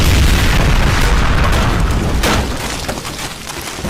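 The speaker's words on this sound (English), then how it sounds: "killing the beast by a fire explosion" A fire explosion in the 2011 film Mothman bursts as a loud, deep, rumbling blast that roars for a few seconds, then slowly tapers off.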